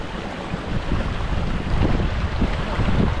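Sea waves wash steadily at the far edge of a seaside property, a broad continuous roar with gentle surges, mixed with wind buffeting the microphone and no speech.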